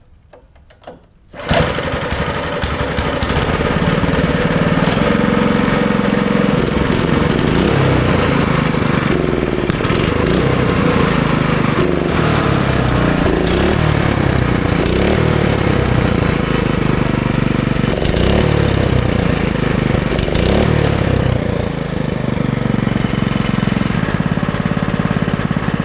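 A cheap $50 go-kart engine catches after a short quiet start and settles into a loud, rough, chugging run right up close, steady until the end.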